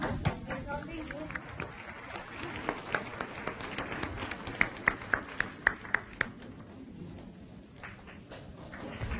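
An audience breaks into continuous applause as Master Thanh arrives, with sharper individual claps standing out and people talking over the crowd noise.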